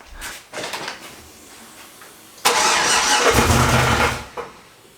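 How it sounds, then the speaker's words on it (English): A big turbo street truck engine on its first start attempt: a few short cranking bursts, then a loud rough catch that roars briefly for about two seconds before dying away. "Dan's just hooking up the battery, and then we're gonna try and start it. First start, take one."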